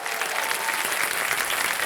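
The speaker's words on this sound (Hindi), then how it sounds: "इतने लोग ताली बजा रहे हैं" A studio audience applauding on the KBC quiz show, a dense, even burst of many hands clapping close and loud, with a faint crowd murmur beneath.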